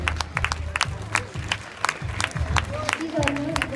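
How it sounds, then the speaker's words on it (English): Spectators at a swimming gala clap in a scattered, uneven patter, with voices and cheering mixed in throughout. "Please motivate him by applauding."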